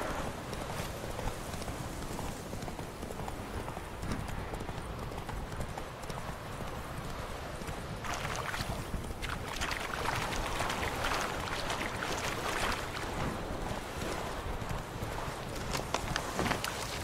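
Roach, the horse in The Witcher 3, gallops with a fast, steady clip-clop of hooves on the ground. The hoofbeats keep a regular rhythm throughout, with a faint voice now and then.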